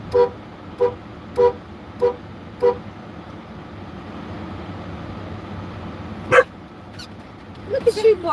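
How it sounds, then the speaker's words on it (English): A dog barks five times in a steady rhythm, then falls quiet over a low rumbling background before a couple more sharp barks near the end. "Look at you barking."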